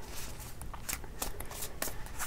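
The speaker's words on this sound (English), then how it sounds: "Shuffle lang natin saglit. Dagdag shuffle." Tarot cards being shuffled, heard as quick riffling bursts and soft slaps that repeat in an uneven rhythm, close and fairly quiet, with no talk over them.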